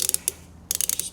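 An M8 × 1.25 thread tap being started by hand into a drilled hole, giving a short burst of sharp ratcheting clicks, a pause, then another quick run of close, crisp clicks.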